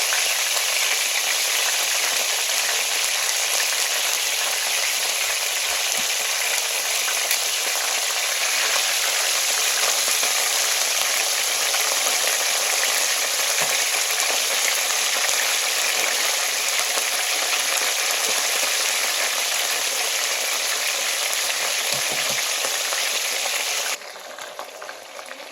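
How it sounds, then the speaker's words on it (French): Fish frying in hot oil in a pan, a steady dense sizzle and crackle that runs unbroken and loud for the whole stretch, then drops slightly in level near the end, with no voices. "Voilà, je procède à mettre les poissons dans l'huile."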